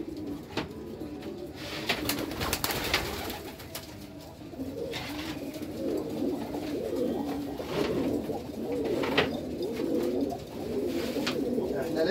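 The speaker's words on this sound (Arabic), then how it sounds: "اسمع صوت الحمام يعمل ازاي." Pigeons coo steadily inside a loft, a dense chorus of soft rolling calls with occasional wing flutters, continuous and close throughout, with faint talk at times.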